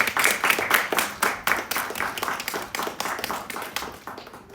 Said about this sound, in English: Let's clap for him as a counselor.